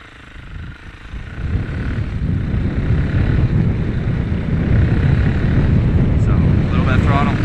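Dirt bike engine revving hard during wheelie attempts, a steady, loud, buzzing drone that climbs after the first second and holds, with someone talking over it.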